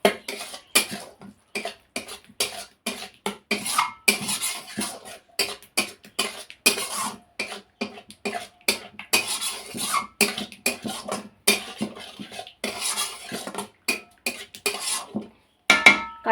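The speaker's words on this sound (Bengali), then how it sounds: "কাশ্মীরি লঙ্কার গুঁড়োটা দিয়ে একটু কষিয়ে নিলাম।" A spoon stirs Kashmiri chili powder into a vegetarian curry of pointed gourd in yogurt, cooking in a pan. It makes steady, close scraping and clinking against the metal pan in quick irregular strokes, with no voices.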